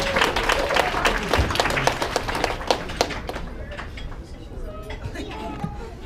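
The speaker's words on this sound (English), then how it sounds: "Big round of applause for them." Applause from a party audience at a graduation celebration, dense clapping mixed with crowd chatter, strongest early then thinning toward the end as voices continue.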